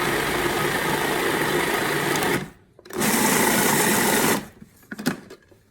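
A food processor whirs steadily while blending pesto with a full cup of oil, a loud motor drone running for about two seconds, pausing, then spinning again for another burst before stopping.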